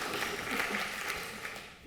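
Audience applause in a hall at a talk on preventing cognitive decline, a steady wash of clapping at moderate, fairly distant level, holding for about two seconds with no talk over it.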